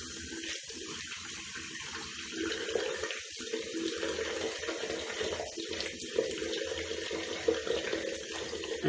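Water runs steadily from a sink tap in a continuous, even stream with no break, fairly close and alone, with no voices.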